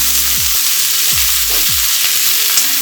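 Green chillies frying in a pan, a loud, close, dense sizzle running without a break, with a few low knocks from stirring.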